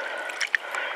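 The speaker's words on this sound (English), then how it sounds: "we should hear it sucking the water down the tube." A cleared sunroof drain tube draws water down with faint, short gurgling slurps, two small sucking pops standing out from a soft watery hiss, with no voices.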